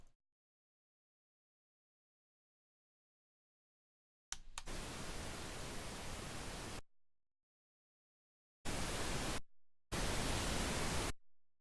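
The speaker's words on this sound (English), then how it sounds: "So you should hear pink noise." Pink noise generated in SuperCollider comes as a steady, loud, broadband hiss in three bursts: one long burst of about two and a half seconds after a silent stretch, then two shorter bursts separated by brief gaps.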